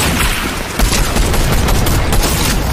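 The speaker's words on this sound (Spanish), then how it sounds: "Escuché tiros. Ahora sí, eso sí es real." Gunfire crackles in a Fortnite match during a Fortnitemares 2022 event, a dense burst of rapid shots and booms from players some distance off, loud and continuous throughout.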